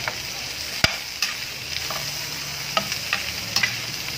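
Carrots and potatoes stir-frying in butter: a steady sizzle with repeated sharp scrapes and taps of a utensil against the pan, close and moderately loud, no talking.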